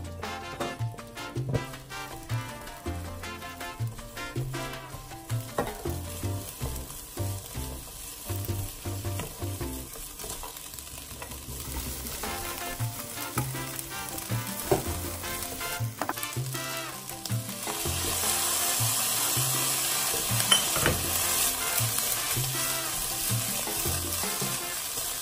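Raw glutinous rice being stir-fried in a wok, a steady sizzle with repeated scraping and tossing strokes that grow louder and denser toward the end, with no talking.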